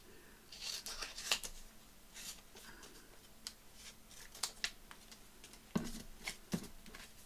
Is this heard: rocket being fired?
no